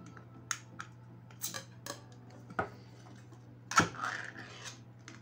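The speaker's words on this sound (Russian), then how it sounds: "Как и говорил, давайте откроем горошек." A pull-tab can of green peas with a key-ring lid is opened at home: scattered small clicks and taps, then a sharp metallic pop and a brief scraping tear, fairly quiet overall.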